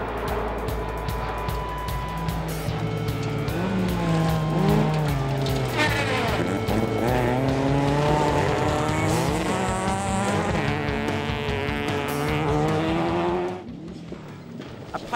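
Rally cars race on a special stage of the Experts Cup Rally 2011 in Western Australia, engines revving hard through rising and falling gear changes with tire squeal, loud and close, then dropping away abruptly near the end.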